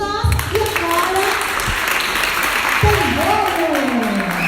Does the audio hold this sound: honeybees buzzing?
no